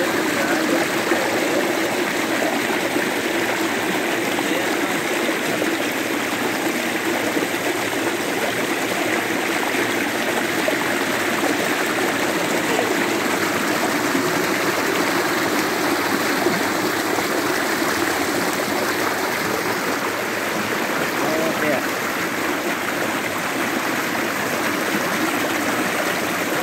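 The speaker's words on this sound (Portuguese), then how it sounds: "Olha só o barulhão da água." A loud mountain stream rushes and splashes steadily and close by, a dense unbroken roar of water with no voices.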